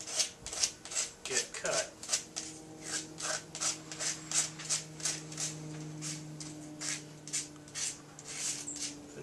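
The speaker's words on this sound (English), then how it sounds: "take your sandpaper and get rid of all your sharp edges" Sandpaper rasps back and forth over the sharp cut edges of a soda can, a steady run of about twenty close, rhythmic scraping strokes, with a few quiet words spoken early on.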